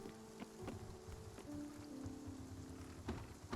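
Steady rainfall in a video game's farming world, a soft even patter of drops with faint low rumbling underneath and a few sharper taps, no voices.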